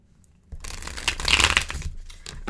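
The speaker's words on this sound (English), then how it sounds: "These cards are a little slippery, so I'm just shuffling them over here." Slippery tarot cards are shuffled by hand in a quick run of papery riffles and slides, close and fairly loud, building in the middle before easing off.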